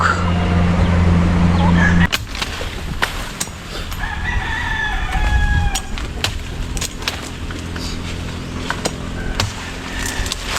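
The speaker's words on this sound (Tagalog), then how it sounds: "Marami na ang ating alagang manok." Pet chickens with a rooster crowing several times, the drawn-out calls rising clearly over a steady outdoor background after a louder opening stretch.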